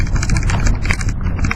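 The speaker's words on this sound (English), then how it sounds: "The truck's running as smooth as can be." A wood-gas powered truck engine drones steadily with a low idle-like throb and light rattling, running continuously and evenly throughout.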